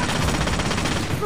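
Enemy gunfire in Splinter Cell Conviction makes a loud, rapid burst of automatic shots rattling without a break for about a second.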